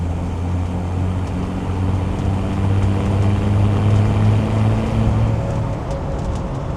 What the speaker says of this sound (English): I'm just going to let the engine warm up to about 70 degrees, get some heat into it,